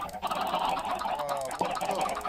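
Chickens cluck and honk in a crowded video game scene, a continuous close flurry of fowl calls layered over one another with game ambience beneath.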